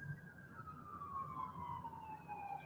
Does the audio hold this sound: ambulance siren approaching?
yes